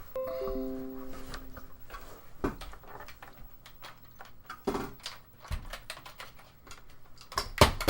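Computer keyboard keys typed rapidly in irregular bursts during a test, the clicks close and crisp, with a few louder clacks near the end and no talking.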